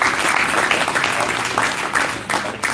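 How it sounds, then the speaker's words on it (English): Applause from an audience at a cricket academy event honouring its coaches, a dense sustained clatter of many hands, fairly loud, with a few sharper bursts near the end. "A big round of applause"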